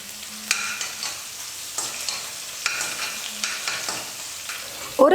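Chopped green chilli sizzles lightly in hot oil with garlic in a pan while a spoon scrapes and stirs in a steady rhythm of soft clinks, ending with a sharper clatter.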